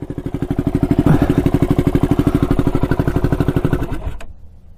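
A turbocharged Honda 400ex ATV engine idles up close with a steady, loud, rhythmic putter, then abruptly cuts out near the end.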